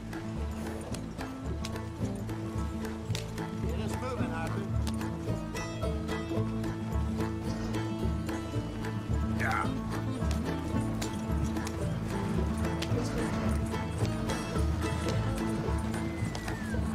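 Horse hooves clip-clop steadily at a run in the video game Red Dead Redemption 2, under a dense bed of game music and ambience, with a brief whinny-like sweep partway through.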